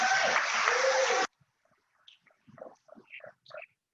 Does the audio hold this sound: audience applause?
yes